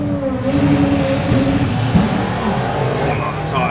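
Drag racing car, a front-wheel-drive Honda Civic at Santa Pod, launching off the start line: a loud, rough engine roar with a brief shudder of tyre shake, close and continuous, with talk over it.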